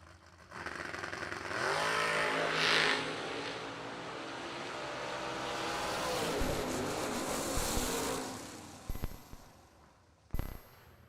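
A drag-racing pickup truck's engine roars loudly at the strip, holding a sustained, rising drone that eases off, followed by a few sharp bangs and clunks.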